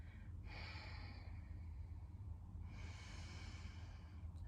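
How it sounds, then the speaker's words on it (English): A long, slow exhale during Kundalini yoga practice, with two broad breathy rushes of air close to the mic, soft and unhurried over a low steady hum. "Exhale to begin."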